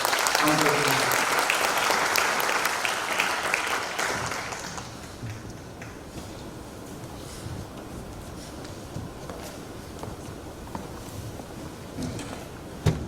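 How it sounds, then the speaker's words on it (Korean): Audience at a university development plan presentation gives a dense burst of applause in thanks that fades after about five seconds into room murmur and scattered faint claps. "네, 박수로 한번 감사드립니다."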